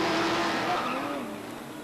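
A stock car spins out during weekly racing at Beech Ridge Motor Speedway in 1991, its engine note sweeping and wavering as the tires skid, loud and close for a brief moment.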